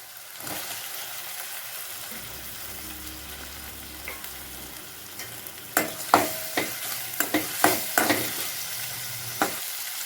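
Two medium tomatoes sautéed with ginger-garlic paste in a pan for a potato and drumstick masala curry, a soft continuous sizzle joined midway by a series of close scraping stirs with a spoon.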